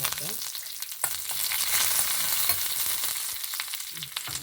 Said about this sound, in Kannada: ಒಗ್ಗರಣೆ ಹಾಕಬೇಕು